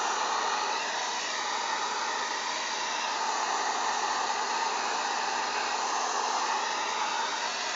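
A hair dryer fitted with a diffuser blows a steady, loud, broadband rush of air while drying natural hair, running continuously at close range with no talking.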